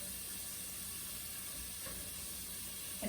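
Vegetables seasoned with cumin and cinnamon brown in a pan, giving a faint, even sizzle and hiss that runs steadily without a break and with no talking.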